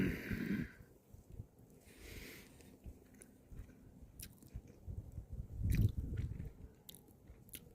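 Cooked couscous being chewed close up while camping in a tent in a state forest, soft wet crunching and smacking in irregular bursts with faint rustles, no talking.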